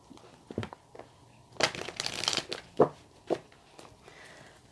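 Tarot cards are shuffled with soft, irregular riffling and rustling bursts, close and fairly quiet, with short gaps between the shuffles.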